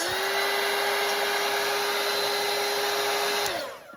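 A hair dryer blows on wet watercolour paint of a shirt in a denim-and-gray painting. Its steady, close whir with a constant motor hum runs alone, then cuts off just before the end.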